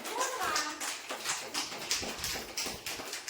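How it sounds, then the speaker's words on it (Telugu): Children and mothers clap in loose rhythmic bursts during a playful anganwadi game day, the claps fairly soft and moderately distant, with children's voices mixed in. "కొట్టండి క్లాప్స్."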